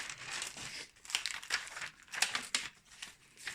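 Crinkling plastic bag as a parcel is carefully unpacked by hand, irregular rustles and crackles in quick succession, close and moderately loud with no talking.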